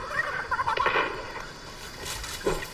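Gobbling fowl call in a video game, a turkey-like chicken sound with a few bursts of rising, warbling clucks over steady game background noise.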